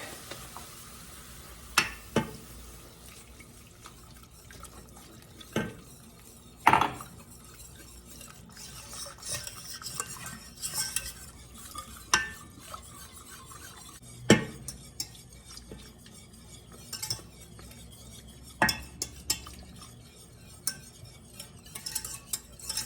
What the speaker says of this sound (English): And I'm slowly going to add 2 cups of milk to it. Don't want it lumpy